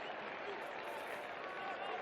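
A distant football stadium crowd applauding a player's ball skills, heard as a steady wash of clapping and cheering with no single voice standing out.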